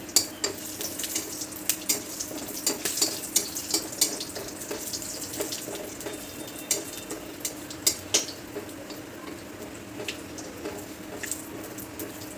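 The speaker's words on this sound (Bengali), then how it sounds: "এই যে তেল গরম হয়ে গেছে, তো দিয়ে দেব এই যে এলাচ, দারচিনি, দুটো লং," Cardamom, cinnamon, cloves and dried chilies hitting hot oil, a continuous crackling sizzle with scattered sharp pops and light clinks of a utensil, close and moderately quiet.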